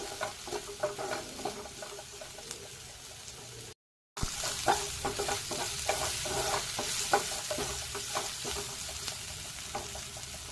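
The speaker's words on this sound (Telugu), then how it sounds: "హాఫ్ స్పూన్ పసుపు వేసుకొని పసుపుని బాగా కలిపేసి ఫ్రై చేసేయండి" Tomatoes with half a spoon of turmeric fry and sizzle steadily in a pan for potato rice, with repeated scraping and stirring of a spoon throughout and one brief drop to silence partway through.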